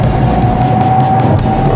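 A car in second gear climbs a steep incline through Banjar Market in Kullu's Tirthan Valley, its engine a steady, close drone that holds without a break.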